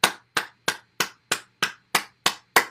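Nine sharp hand claps in a steady, even rhythm during a head-tapping bounce exercise, close and crisp with silence between each clap.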